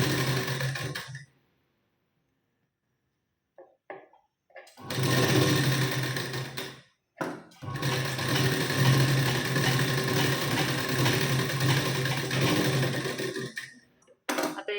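Sewing machine stitching a katori blouse, running in two long continuous bursts of steady mechanical whirring with short pauses and brief stops between runs, close and fairly loud.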